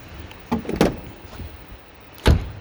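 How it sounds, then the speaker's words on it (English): A few sharp thuds and knocks, with a solid bang near the end like a Knaus Van Ti Plus 650 MEG motorhome door shutting, over a quiet room background. "Close the door"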